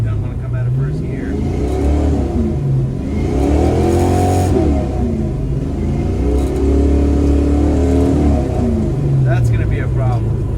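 A Ford Mustang Fox Body engine stuck in first gear revs up and down in long repeated swells, loud and close, with someone talking over it.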